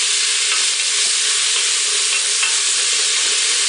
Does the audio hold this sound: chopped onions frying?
yes